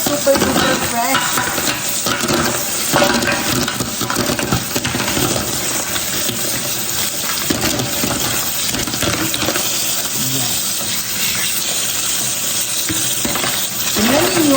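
Fresh pipis, cockles and seashells being washed, with dense continuous rattling and clattering of wet shells under running water, loud and close throughout, no talk.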